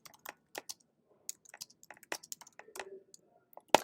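Someone types on a computer keyboard, with quick, close, crisp key clicks in short bursts and irregular rhythm against near silence.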